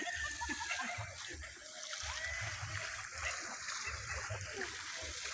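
River water at the Kamalig River campsite rushes and splashes in a steady broad wash, with low muffled voices in the background.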